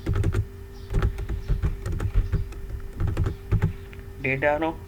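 Rapid clicking keystrokes on a computer keyboard while VBA code is typed in Excel, short bursts of taps at close range with a brief tonal sound near the end.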